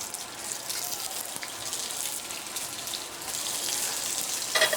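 Baby gem lettuce leaves, the big thick outer ones, hit hot olive oil in a pan and give off a steady broadband sizzle and hiss for several seconds, with a brighter spatter flaring near the end.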